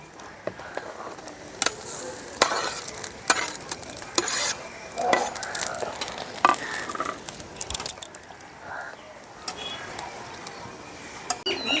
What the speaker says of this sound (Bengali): ঝোলটা কিন্তু ফুটে গেছে এখন এর মধ্যে দিয়ে দিচ্ছি ভেজে রাখা আলু আর পটলগুলো